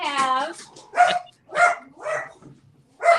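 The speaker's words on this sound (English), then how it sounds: "have a crazy dog barking." A dog barks in short bursts, four or five sharp yaps spaced about half a second apart, fairly close, with a brief whine at the start and a voice briefly audible.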